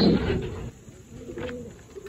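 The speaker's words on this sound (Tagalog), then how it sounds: "So titingnan ko mga kalapatids kung tutuka." Pigeons feeding on scattered food with soft cooing and pecking, a louder burst at the start then quieter low murmuring coos close by.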